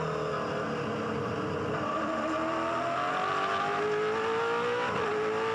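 Race car at the Bathurst 1000 accelerating hard out of Forest Elbow from around 90 km/h onto Conrod Straight, the fastest straight in Australian motorsport; a loud, steady engine roar rises in pitch through gears for the whole stretch, no talk.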